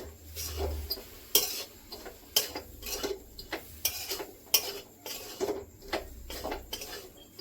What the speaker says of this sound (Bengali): অল্প অল্প দুধ দেবো, মেশাতে থাকবো।